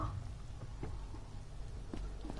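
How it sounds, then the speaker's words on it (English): Steady rain falls across an outdoor open-world scene in Final Fantasy XV, a dense continuous hiss with scattered louder drops and faint low rumbles, and no voices. "I love walking in the rain."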